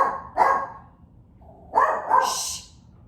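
A small dog barks close by and fairly loudly, with a single sharp bark followed after a pause by a quick pair of yappy barks.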